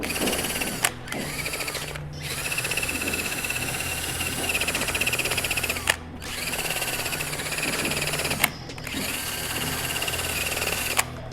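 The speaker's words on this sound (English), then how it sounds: "back to the power drill" A power drill with a wheel attachment grinds seam sealer off the fender and A-pillar area of a right-hand-drive Integra, a steady, loud whirring buzz broken by brief pauses about every two to three seconds.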